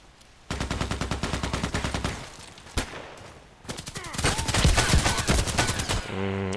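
Bursts of RPKT machine gun fire in the shooter game Contract Wars, rapid rhythmic volleys with short pauses between strings of shots and a single crack in between, fairly loud and close.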